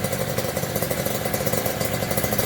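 A repaired car engine idles up close with a steady, even pulsing beat that holds constant throughout, with no voices.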